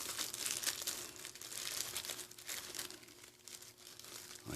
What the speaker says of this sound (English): I'm going to take my sandwich baggie here and I'm going to fold it like this into thirds